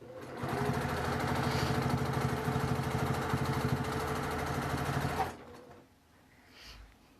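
A sewing machine quilting a quilt runs steadily with a fast, even mechanical whir and needle chatter for about five seconds, then stops abruptly, leaving quiet room sound.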